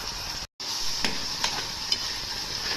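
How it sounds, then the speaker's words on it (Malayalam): Curry masala stirring in a hot pan, with a continuous bright sizzle, a brief dropout near the start and several soft scrapes of the spoon, close up and with no voices. "നല്ലപോലെ ഇളക്കാം"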